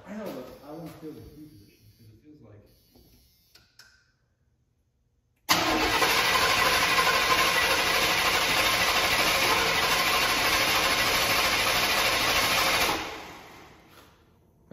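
A 1987 Chevy engine that has sat unused for 5 years cranks and catches, roaring loudly and steadily for several seconds before winding down; quieter voices and clatter come before it.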